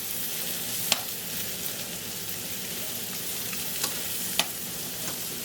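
About two cups of chopped mushrooms fry in fat in a pan, giving a steady, loud, close sizzle throughout, broken by a few faint clicks of stirring.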